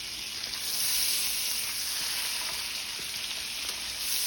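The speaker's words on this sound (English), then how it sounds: "I'm going to go ahead and start frying my shrimp" Butter and vegetable oil heating in a pan for frying shrimp produce a steady, close hiss and sizzle with faint crackles, continuous and even throughout.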